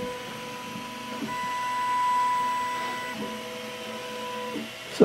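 An Ortur laser engraver sets its gantry moving to trace the frame of the work area, giving a steady whirring stepper-motor hum with shifting tones. The movement is close and continuous, with a few brief pauses and changes of direction.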